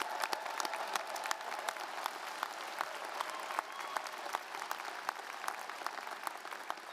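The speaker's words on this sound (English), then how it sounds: "how about just a round of applause for all of you amazing graduates one more time" A large commencement audience applauds graduates at the University of Utah 2025 general ceremony, a steady, fairly distant wash of many hands clapping that holds evenly throughout with no pauses.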